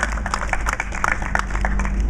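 Dense, steady applause from a crowd at a 2011 Operation Free press conference for the Florida legislative session, many hands clapping loudly and continuously throughout.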